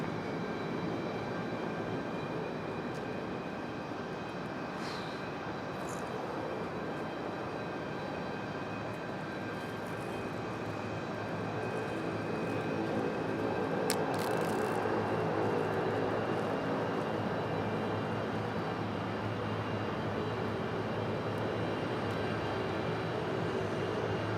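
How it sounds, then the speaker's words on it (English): A distant airplane touching down at Raleigh-Durham International Airport roars steadily, a broad rushing engine noise that swells slightly midway with no speech over it. "Must have been one touching down."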